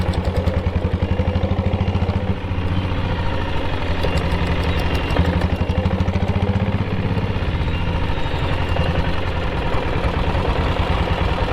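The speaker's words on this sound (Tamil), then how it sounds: "ஒரு வண்டி நிற்கிதுங்க, டீசல் வண்டி." A diesel vehicle stands idling on a hill road, its engine running close and loud with a steady rhythmic clatter that holds throughout, with no voices.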